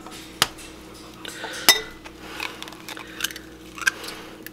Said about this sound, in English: I'm just going to crack them right inside the jar